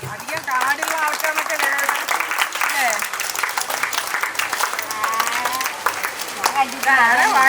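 Audience at a family gathering clapping in sustained applause, loud and continuous throughout, with speech mixed in over the clapping.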